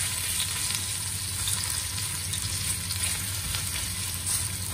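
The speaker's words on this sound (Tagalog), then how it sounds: "magisa na tayo ng luya para sa ating pork leg with black vinegar" Ginger sizzles and fries in a hot pan as the base for braised pork leg with black vinegar, a steady, close crackling hiss with faint stirring and no talk.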